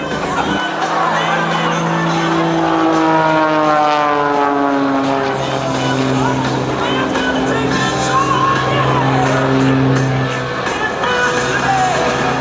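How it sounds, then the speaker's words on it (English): An aerobatic propeller airplane drones overhead at an air show, tumbling through its own smoke, its engine pitch sliding up and down as it maneuvers, with a crowd and loudspeaker commentary underneath. "As he tumbles the airplane through his own smoke, falls back down around you."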